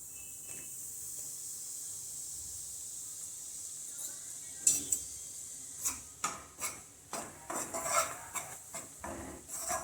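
Gram flour mixed with semolina is roasted on low flame in a pan for besan halwa, a quiet scraping under faint hiss that gives way to a run of distinct metal spoon clinks and scrapes against the pan.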